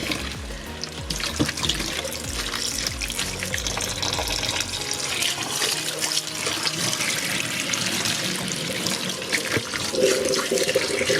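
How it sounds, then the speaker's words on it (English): A knitted piece is swished by hand through sink water with clear dish soap, giving a steady, close, continuous sloshing and trickling with no one talking. "Now you don't want to wring this, you just want to swish, because you don't want it felting."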